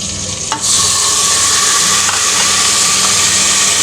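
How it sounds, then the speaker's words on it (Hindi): Ginger garlic paste dropped into a hot pan of frying onions, a loud close sizzle that bursts up after a brief stir and keeps hissing steadily. "अब अदरक डालते हैं इसमें। बिस्मिल्लाह, अदरक लहसुन का पेस्ट डालते हैं।"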